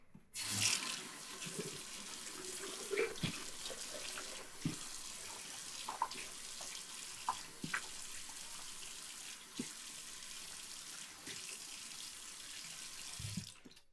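Tap water runs steadily from a faucet to wet a shaving brush, making a close, continuous splashing hiss with small irregular spatters and no talking.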